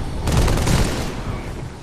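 A loud, dense burst of gunfire with rapid overlapping booms that swells early, then fades into a rumbling tail over about two seconds.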